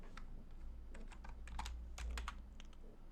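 Quiet, uneven keystrokes tapping on a computer keyboard, a short run of clicks under a low steady hum, close and soft with no voices.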